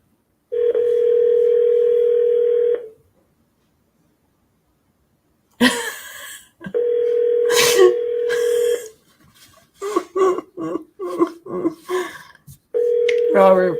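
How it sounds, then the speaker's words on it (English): A telephone line sounds steady electronic tones: a sustained tone, a pause, then clatter and a cough, another tone, and short choppy sounds before the tone returns; a person can be heard near the phone. "I feel like I just dialed all wrong"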